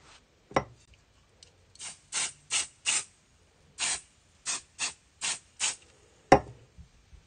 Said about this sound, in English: You should spray it about 12 inches away from your thing, your project.